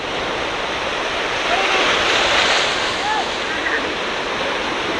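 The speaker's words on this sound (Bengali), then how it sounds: "প্রত্যেকটা ঢেউ আমার পায়ে এসে আসতে পড়তেছে" Large sea waves rolling onto a sandy beach and washing around the feet, a dense continuous roar of surf and wind close to the microphone, steady throughout.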